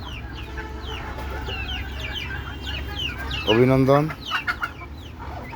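Native egg-laying hens on a rooftop coop cluck in short repeated calls, with a louder rising squawking burst midway, over a steady low background hum; a voice briefly speaks.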